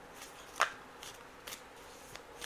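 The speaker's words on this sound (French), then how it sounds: "Je vais vous prendre une ou deux cartes de plus ici" Playing cards are shuffled and drawn at close range: a sharp riffle burst, then several soft flicks and slides of cards, quiet overall with no one speaking.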